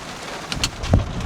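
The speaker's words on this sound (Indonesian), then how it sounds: "Karena hujan kayaknya nggak mungkin gue buka kaca banyak" Rain falling on a Nissan X-Trail e-Power 2026, heard from inside through a slightly opened window as a steady broadband hiss with a few louder patters and a soft low thump near the end.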